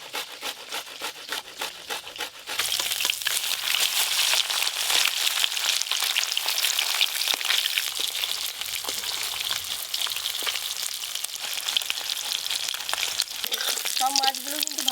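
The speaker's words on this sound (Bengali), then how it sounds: "সব মাছগুলো কিন্তু ভালো করে ভাজা হয়ে গেল।" Topse fish fry in hot oil in a pan, starting with a lighter crackle and then swelling into a loud, dense, continuous sizzle that goes on to the end.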